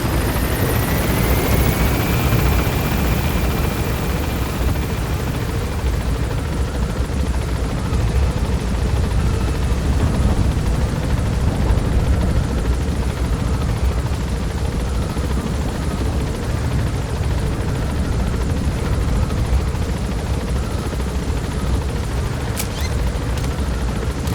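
A helicopter in Metal Gear Solid V: The Phantom Pain climbs with a loud, constant rotor roar that fills the whole stretch, close and unbroken, with no talk over it.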